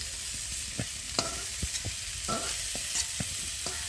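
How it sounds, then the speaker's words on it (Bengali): Cauliflower pieces fry in plenty of oil in a pan, making a continuous crackling sizzle broken by scattered clicks and scrapes from stirring. No one speaks. "দেখো বন্ধুরা, কপিগুলো বেশ ভালো করে ভেজে নিয়েছি। আর এই কপি ভাজতে না অনেকটাই তেল লাগে।"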